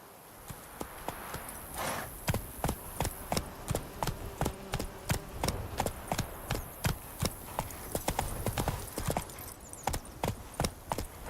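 Geralt's horse Roach in The Witcher video game, hooves clip-clopping in a steady, even rhythm of sharp, close strikes that run throughout, over a faint background bed.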